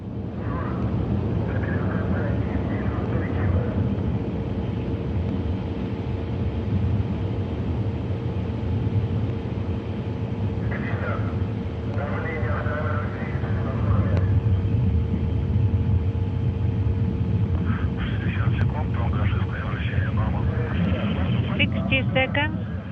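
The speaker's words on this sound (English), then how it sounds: "The Soyuz delivering 102 tons of thrust from its 4 boosters and single engine." Steady, broad roar of a Soyuz rocket's four liquid-fuelled boosters and single core engine in flight, a continuous distant rumble that runs the whole time beneath a voice talking over it.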